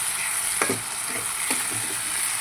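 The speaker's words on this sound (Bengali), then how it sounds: "এইভাবে আমি আদা জিরে বাটাটা দিয়ে দিলাম দিয়ে ভালো করে আমি নাড়াচাড়া করে নিচ্ছি" Ginger-cumin paste frying in hot oil in a pan for a lote fish curry, a loud continuous sizzle broken by a few distinct stirring scrapes, close and with no voices.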